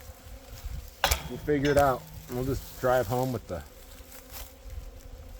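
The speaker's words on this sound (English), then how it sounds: "there's a ton of bees on them still, even though we knocked most of them off." A dense swarm of honey bees buzzes steadily around harvested hive boxes during a late-season honey harvest, with a person talking over the buzzing.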